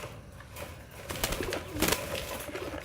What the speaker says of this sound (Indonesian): burung merpati yang jahat